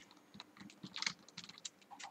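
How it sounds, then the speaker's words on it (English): A computer keyboard is struck by a mouse during a game, giving a quiet burst of scattered plastic key clicks in irregular rhythm, faint and close, with no talk. "My mouse hit my keyboard."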